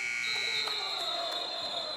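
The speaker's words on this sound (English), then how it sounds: "Buzzer went off before he ever caught the ball" A harsh, sustained electronic buzzer sounds at the end of a high school basketball game, loud and continuous over crowd noise and a few bouncing thuds.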